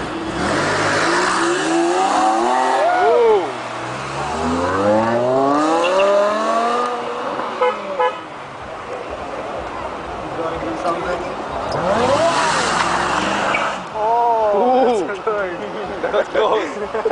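A Porsche drives off with its engine revving hard in rising and falling sweeps and tyres squealing, loud and close on a street, while onlookers talk over it.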